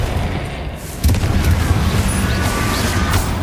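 Explosion spells such as Bombarda and Confringo going off in the video game Hogwarts Legacy: a loud, sustained, rumbling booming blast with a sharp burst onset about a second in, then continuing heavy low rumble.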